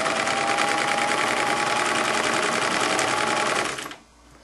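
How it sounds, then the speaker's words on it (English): Close, steady rapid whirring of a sewing machine stitching a knit T-shirt seam at a very short stitch length, running continuously for several seconds before stopping abruptly. "I'm going to sew this seam using a stitch length of 1"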